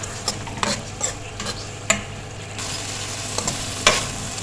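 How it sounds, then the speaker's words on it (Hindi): Masala fries in oil for a Kachnar chicken curry, a steady sizzle broken by sharp scraping clicks of a spoon stirring against the pan at an irregular pace. "बस अभी इसको और भूनेंगे यहाँ तक कि इसका जो है घी है वो निकल आए"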